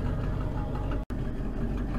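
A truck engine runs steadily at low revs while being parked, a continuous close rumble broken by one very brief dropout midway.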